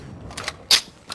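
Gunfire from a shooter video game, heard as a few short, sharp shots spaced irregularly, one noticeably louder and crisper than the rest, with no talk.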